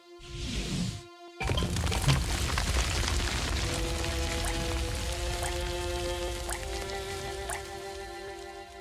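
Rain falls in a video game, a short thud and pause giving way to a steady patter of drops over a sustained tonal hum, with occasional sharper drips.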